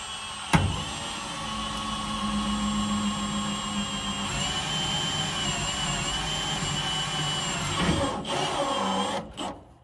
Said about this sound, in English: Gotta drill a lot of holes.